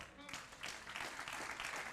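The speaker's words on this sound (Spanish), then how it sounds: "Dale un aplauso al Señor." A church congregation applauds during a sermon, fairly faint and brief clapping rising in a short burst, with a voice over it.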